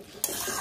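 Fried potatoes tipped into a pot of mutton curry and stirred, a short scrape and clatter of the spoon against the pan that jumps up at once and stays at a steady level.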